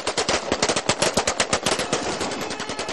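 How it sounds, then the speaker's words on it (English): Rapid bursts of celebratory automatic gunfire crack in quick succession in the streets of Sirte, Libya, loud and continuous, with overlapping shots and no voices. "filled the streets of Sirte with celebratory gunfire"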